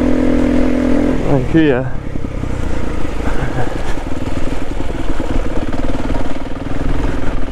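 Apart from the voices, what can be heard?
SWM RS300R motorcycle engine riding through mud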